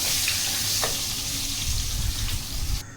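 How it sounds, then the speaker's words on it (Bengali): Potato pieces sizzle in hot oil with salt and turmeric, a steady close crackle of frying running throughout with a few scrapes of stirring and no talk. "আলুগুলোও নুন হলুদ দিয়ে ভেজে নেব"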